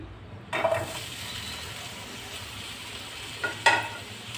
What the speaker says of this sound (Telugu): మళ్ళీ మనం అదే పెనంలో కొంచెం ఆయిల్ని వేసుకొని మనం కట్ చేసి పెట్టుకున్న టమాటా ముక్కల్ని వేసుకుందాం.